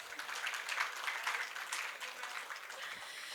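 Steady clapping from an audience at a live interview event, moderately distant, continuing evenly throughout without pause.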